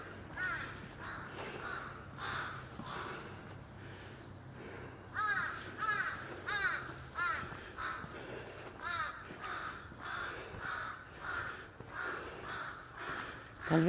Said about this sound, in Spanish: Estos son los pájaros de Corea, muy comunes.